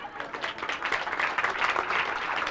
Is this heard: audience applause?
yes